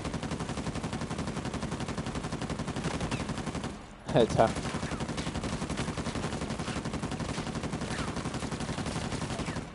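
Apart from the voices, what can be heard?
gunfire in the video game Uncharted 4: A Thief's End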